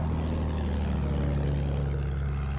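A propeller plane drones steadily in Battlefield 1, a continuous low engine hum with no breaks and no talk over it.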